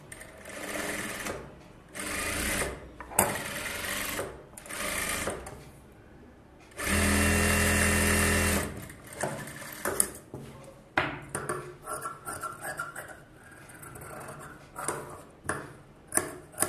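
Sewing machine stitching the edge of a bridal aari blouse, running in repeated bursts with pauses between them, one long steady run near the middle, close and loud with faint ticking handling sounds.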